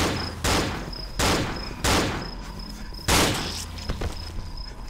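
Repeated gunshots in the horror game Cry of Fear: four loud bursts at irregular intervals of roughly a second, each trailing off into a rumbling decay, with a thin continuous whine running underneath.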